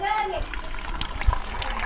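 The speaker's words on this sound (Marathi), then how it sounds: "पहा किती बारीक धार आहे पाण्याची" A thin stream of water trickles and splashes into containers as villagers collect it during a village water shortage, steady and close beneath children's and adults' voices.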